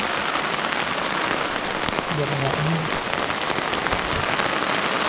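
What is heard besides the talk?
rain falling during a Mount Gede hiking trip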